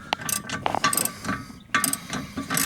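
Ratchet torque wrench tightening a 17 mm bolt on a 2005 Mazda 3 rear strut to about 70 foot-pounds, giving close, rapid metallic clicking bursts in several quick runs with brief pauses between them.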